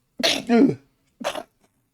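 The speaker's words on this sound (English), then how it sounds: "I think I'm about to sneeze again." A person with allergies lets out a loud, close sneeze with a double burst, followed a moment later by a shorter second explosive sound, in an otherwise quiet room.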